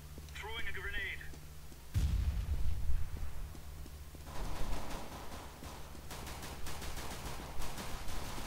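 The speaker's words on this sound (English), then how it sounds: "Throwing a grenade." Grenade blast in Counter-Strike GO: a loud low-heavy explosion bursts near two seconds, followed by scattered gunfire and clatter through the rest, with faint game noise and talk underneath.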